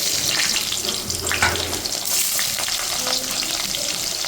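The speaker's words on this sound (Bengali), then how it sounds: "এবার ওই তেলে দিয়ে দিচ্ছি কেটে রাখা আলুগুলো।" Cut potatoes dropped into hot oil after plantains were fried, for a Bengali niramish shukto, sizzle and crackle steadily and close up, with a brief louder burst early on and a faint watery clatter in the background.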